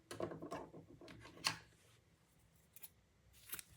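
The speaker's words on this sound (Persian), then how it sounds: "قیچی میکنم." Scissors snip crochet yarn in a few quiet, crisp cuts close by, with soft handling and rustling between the snips.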